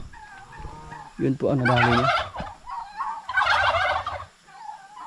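Poultry on a backyard farm with laying hens and turkeys give loud, close bursts of gobbling and clucking calls in two main bouts, while a person speaks briefly.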